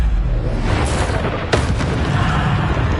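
A Bombardo spell explosion in the video game Hogwarts Legacy: a single sharp boom bursts out mid-clip over a steady bed of loud game noise and rumble.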